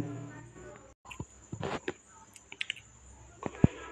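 Sparse, soft clicks of an Aadhaar card number being typed on a keyboard, with isolated keystrokes and a sharper tap near the end over a faint steady background hum.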